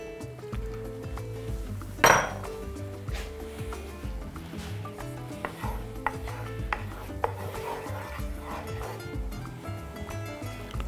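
Cornstarch being stirred into orange juice in a bowl, with soft close clinks and scraping of a spoon against the bowl over a steady background of music.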